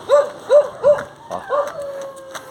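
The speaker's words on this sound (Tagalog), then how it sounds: "May aso pang sumasalubong papunta sa elementary." A dog on a road, met during a barefoot run toward an elementary school, gives four or five short, close, high yipping barks in a quick, uneven series that fade toward the end.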